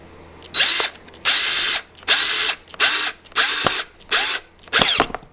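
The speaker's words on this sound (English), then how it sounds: "I'm going to put a screw in the back of the plate as well" A power drill drives a screw into the back of a wooden French cleat plate in seven distinct bursts of whirring, each about half a second long, separated by short pauses, loud and close.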